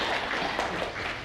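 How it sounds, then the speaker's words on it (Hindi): A crowd claps at a 75th birthday celebration attended by Rotary club members, a brief, dense burst of applause from many hands, steady and moderately loud, without speech. "पीछे रोटरी में के काफी मेंबर बैठे हैं, उनकी जोरदार तालियां चाहूंगा"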